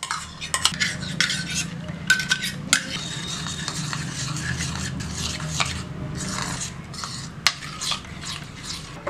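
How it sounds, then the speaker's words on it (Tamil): Ghee is stirred into gram flour in a metal pan with a utensil while making Mysore pak. Repeated scraping strokes and sharp metallic clinks sound close over a soft background hiss, with no talking. "இந்த நெய்யை ஒரு 1/2 கப் போட்டு இதில் மிக்ஸ் பண்ணிக்கலாம்."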